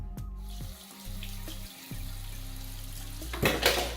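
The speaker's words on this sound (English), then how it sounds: "Now we're going to go ahead and rinse it off" Running tap water splashes over a polished controller being rinsed off after paint polishing, a steady close rushing stream with a few clunks as it is handled and a louder gush near the end.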